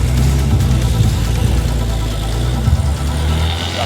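A Mazda RX3 rotary with a standard exhaust cruises along an open road at about 100 km/h, a steady loud low engine drone with road rumble throughout and no talk.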